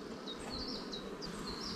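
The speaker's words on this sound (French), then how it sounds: "C'est rempli d'abeilles. Regardez bien, ça déborde." Honeybees swarm an opened beehive during colony work, giving a dense, continuous buzzing hum that stays close and steady, with individual bees droning past.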